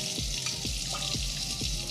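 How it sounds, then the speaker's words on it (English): Water from a tap rinsing a sanded tumbler, a steady close running-water wash with a few soft drips and splashes falling on the tumbler's surface. "I can tell just by the way the water is dropping on this tumbler that it's got a pretty good sand on it."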